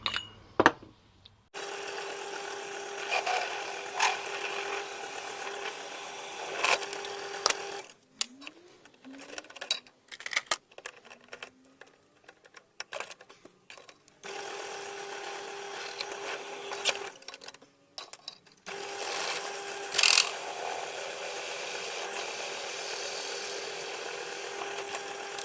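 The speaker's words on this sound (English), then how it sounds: "I'm just using a hole saw because I have one." A hole saw bores into unclamped PVC pipe, a buzzing, whirring drill cut that runs in long stretches and breaks off in brief pauses and bursts, close and fairly loud with no voices.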